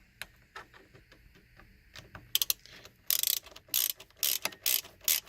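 A hand ratchet tightens Torx bolts on the horn of a 1999 Sienna, giving quick bursts of sharp, close metallic clicks that grow louder and denser toward the end, with no talking.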